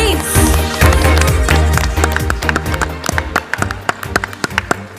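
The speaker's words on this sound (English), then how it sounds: "Can we give them a round of applause, please?" An audience at a Quezon City work conference applauds for two ladies, a dense wash of clapping that holds steady, then thins into scattered separate claps near the end, loud and close, with no talk over it.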